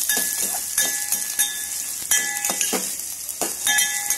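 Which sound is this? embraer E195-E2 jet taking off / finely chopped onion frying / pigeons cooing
finely chopped onion frying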